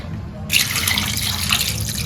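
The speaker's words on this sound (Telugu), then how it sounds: "ఇప్పుడు ఈ స్టేజ్ లోనే మనం 1 గ్లాస్ వరకు వాటర్ పోసుకున్నాము" About a glass of water poured into chicken curry cooking in a pan, a steady splashing gush that starts suddenly and runs continuously, close and fairly loud.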